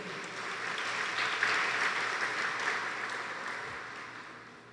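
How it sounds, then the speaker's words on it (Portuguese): A church congregation claps for a man during a family worship service, a soft, steady wash of applause that swells slightly and then gradually fades out. "Uma salva de palmas para ele."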